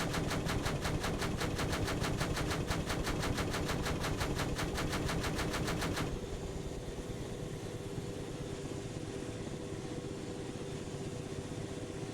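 Sustained automatic fire from an aircraft gun in Arma 3, a long rapid burst of evenly spaced shots lasting about six seconds before cutting off, leaving a steady engine drone underneath.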